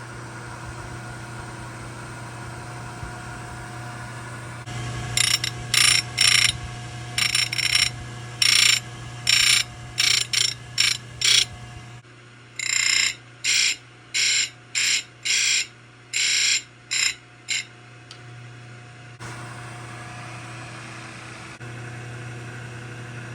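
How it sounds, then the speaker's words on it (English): A chainsaw chain is sharpened on a grinder, which makes repeated short bursts of high-pitched grinding: about a dozen quick passes, a pause, then a second run of similar bursts, all over a steady motor hum. "I'm gonna grind up a chain."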